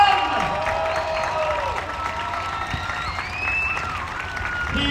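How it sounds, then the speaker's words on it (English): Crowd applause with some cheering at a farewell event for Captain Martin Allen and the Britannia team, steady and fairly close throughout, with tonal music or voices layered over it. "One more time, everybody, a big cheer,"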